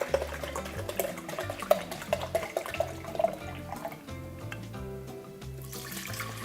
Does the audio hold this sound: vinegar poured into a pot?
yes